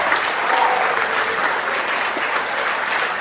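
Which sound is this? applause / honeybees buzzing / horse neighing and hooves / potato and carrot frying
applause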